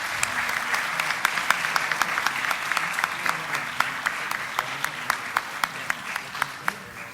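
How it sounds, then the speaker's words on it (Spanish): Audience applause for the panelists at an academic humanities symposium, a sustained roomful of clapping with distinct individual claps standing out throughout, steady and moderately loud. "Un aplauso para los panelistas"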